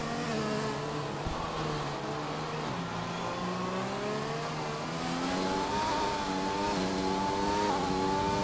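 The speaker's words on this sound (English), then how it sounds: "He'll be so gentle on that throttle. Quite high revs as well, that can't be doing the rear end any good" A race car at high revs works through a tricky final S section of a Mexico circuit, its engine note loud and close, rising and falling in pitch through the bends with a steady throttle.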